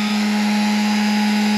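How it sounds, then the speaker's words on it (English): An electric sander powered by a portable power station runs steadily, a loud, constant motor whine with a strong hum, close by and with no talk. "I'm at 124 watts running this sander right here"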